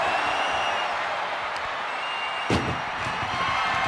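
A single heavy ambulance door slam in the video game WWE 2K25 cuts through a steady wash of crowd noise and music, brief and loud against the continuous background.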